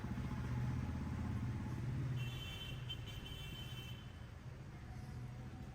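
Traffic near an underground road in Bangalore on a Saturday night, a continuous rumble of car and motorbike engines passing close by, heavy at first and easing slightly toward the end.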